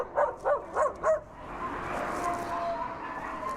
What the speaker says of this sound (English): there's the one howling, and then the one that came up and barking